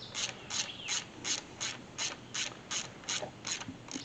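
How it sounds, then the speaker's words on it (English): A ratchet wrench drives a bolt home while an LS swap engine is installed into a 1977 IH Scout, giving about a dozen quick, evenly spaced clicking bursts, close and fairly loud, with no talking. "Run another bolt in there, make sure the hole's clean."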